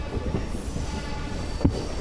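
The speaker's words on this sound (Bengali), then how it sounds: "আমাদের ট্রেন ঢুকছে এ লাইন দিয়ে" A DMU passenger train on a local line between Siliguri and Lataguri rolls along with a continuous low rumble and faint rail noise, plus one brief sharp knock near the end.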